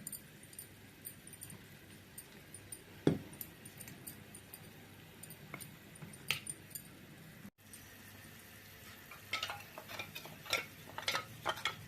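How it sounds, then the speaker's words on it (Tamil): Cornflour and water being mixed with a spoon, about three spoonfuls, for a grape halwa; light scraping and clinking of the spoon against the bowl come in scattered bursts, busier toward the end, with no talking. "தண்ணி போட்டு நல்லா மிக்ஸ் பண்ணிவிடுவோம் கார்ன்ஃப்ளவர்ஸை"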